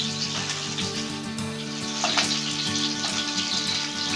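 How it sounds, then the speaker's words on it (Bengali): Falui fish sizzling and frying in hot oil in a pan, a steady crackling hiss with occasional louder spits, close and continuous without talk. "মাছগুলো দুই পিঠে আমি লাল করে ভেজে নেবো"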